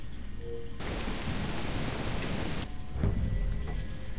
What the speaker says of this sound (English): the rain's easing up.